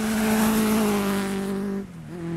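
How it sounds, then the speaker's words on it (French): A tractor pulls a disc hiller implement through soil, its engine holding a steady, loud drone that dips briefly near the end before recovering. "les disques tournent, découpent et chaussent, contrairement à ces outils à l'ancienne"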